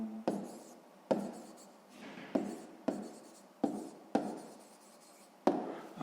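Pen or pencil writing a math solution step by hand on paper, heard as a series of close, quiet scratching strokes in short bursts, each starting with a soft tap, with no talk.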